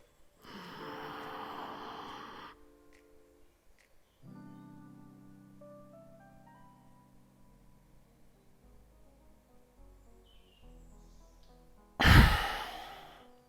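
A slow lung-strengthening breathing exercise: one long, airy breath drawn in, then a quiet held stretch with faint steady tones, ending in a sudden loud, forceful exhale.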